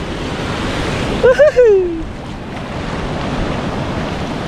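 Continuous loud roar of strong ocean surf breaking on a beach in La Union, Philippines, with a brief wavering cry rising above it for a moment early on.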